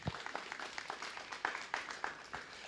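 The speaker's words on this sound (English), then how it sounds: "Let's give her a nice round of applause." A small audience claps at a 4-H poultry show at a county fair, giving brief, sparse applause with distinct individual claps in an indoor space.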